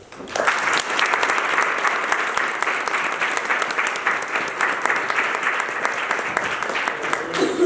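Audience applause welcoming artist Pablo Delano at an artist talk for The Museum of the Old Colony, a steady, sustained clapping from a seated crowd that starts abruptly and continues evenly throughout.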